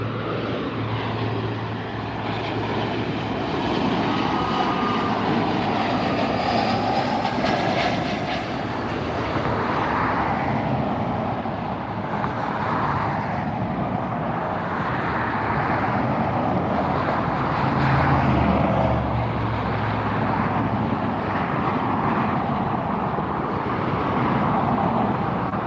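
A jet airliner rumbles on runway 24R at LAX, a loud, sustained engine roar that swells and fades slightly with broadband wind noise throughout, no voices.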